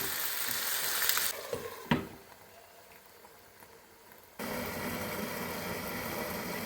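Tamarind water and turmeric poured into a hot frying pan of vangi bath masala, giving a loud steady sizzle that briefly drops quieter mid-way, with a sharp splash or clatter, then swells back to full frying.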